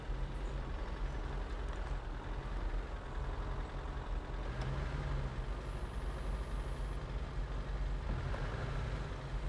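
Land Rover truck engine driving in the video game SnowRunner, a steady loud rumbling drone that holds throughout with no pauses.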